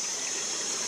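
Water pouring from a mountain spring source into a hose, a loud, steady, unbroken gushing rush close by.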